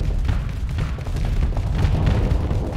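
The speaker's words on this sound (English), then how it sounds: "And we're still firing some torpedoes, right?" Torpedoes launching and detonating in the space combat game Starsector, a dense, heavy rumble of overlapping booms with repeated low thuds, loud and continuous, no speech over it.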